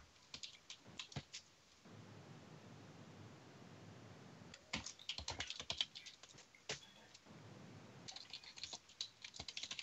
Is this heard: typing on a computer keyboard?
yes